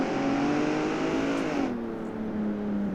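A BMW X5M engine in BeamNG.drive revs hard under full throttle, a loud steady roar whose pitch sags slightly as the gear or load changes, with no voices over it.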